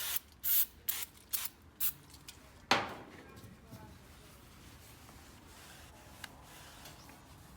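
Brake cleaner sprayed onto car brake rotors: several short hissing bursts, then a longer close, loud spray, followed by a faint hiss and quiet shuffling.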